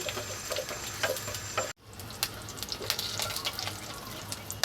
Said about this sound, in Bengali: এগুলোকে কুচি করে নিয়েছি এগুলো ঘির সাথে একটু ভেজে নেব